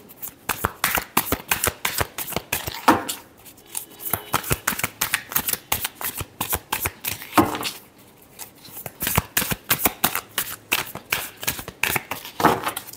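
A tarot deck is shuffled close up in quick crisp riffles and flicks, bursts of rapid card slaps separated by brief pauses, with no talk over it.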